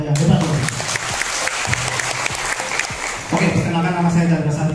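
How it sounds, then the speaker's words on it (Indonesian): An audience applauds at a testimonial event, with continuous clapping heard under and between a voice speaking through a sound system, which grows louder toward the end. "Sekali lagi tepuk tangan untuk ada yang hebat."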